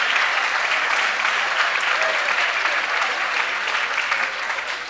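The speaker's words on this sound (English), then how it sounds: "I want a big round of applause thanking Melinda and everyone who does that" Audience applause honoring painter Melinda Brewer at a polo hall of fame induction ceremony, a dense, steady wash of many hands clapping that holds loud throughout and eases slightly at the end.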